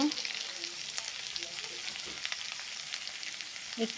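Food frying in a pan with chopped onion and vegetables for oats, a quiet continuous hiss of sizzling with a few soft clicks and stirring touches, faint and steady throughout.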